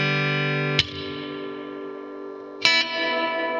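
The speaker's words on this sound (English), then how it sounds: "if you hold the reverb button down, it kind of does that freeze thing" An electric guitar plays through a Blackstar AMPED floorboard amp with the reverb freeze engaged, so each struck chord hangs as a sustained, distorted drone; two sharp attacks sit on top of the held wash, loud and alone.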